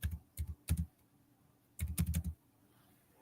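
Fingers tap a computer keyboard in two quick bursts, a handful of sharp clicks, then a short pause, then a faster cluster of keystrokes, close and distinct with no talking.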